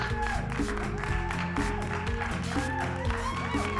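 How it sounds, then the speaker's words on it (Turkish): Steady applause and clapping after a win in the game Run Roll Rumble, amid layered electronic game music, with a voice speaking faintly underneath. "Alkışlar geldi."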